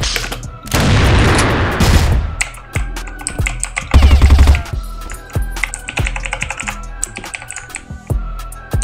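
Gunfire in a ranked online shooter match, loud bursts and single shots mixed with rapid clicking keyboard typing throughout, close and dense.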